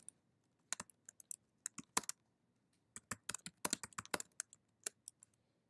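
Quiet, close typing on a computer keyboard while a program is written, uneven bursts of light key clicks separated by short pauses, with no talking.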